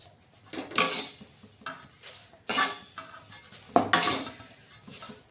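Puffed rice (khoi) stirred around a pan as it heats, giving a few separate bursts of dry rustling scrape with light clinks of the utensil against the metal, fairly close and with no talking.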